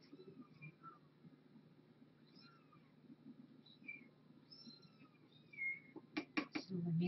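Kittens meow softly and repeatedly, thin high cries scattered over a low murmur of people talking indoors, ending with a few sharper clatters close by.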